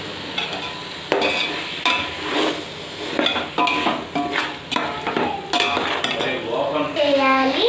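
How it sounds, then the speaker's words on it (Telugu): A spoon stirs a chicken biryani mixture with egg pieces in a pot, giving repeated close scraping and clinking strokes over a soft sizzle, with a voice speaking briefly. "ఇప్పుడు ఇదంతా మిక్స్ చేయాలి."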